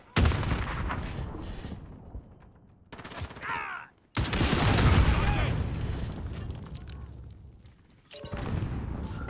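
Grenade blasts and gunfire in the Call of Duty combat game, with several loud booming bursts and crackling shots separated by brief pauses, and a short whooshing sweep in the middle.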